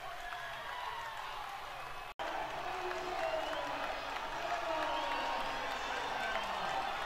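Crowd at a Patriot League swimming championship in an indoor natatorium, a sustained roar of cheering and applause filling the space, with an announcer talking over it.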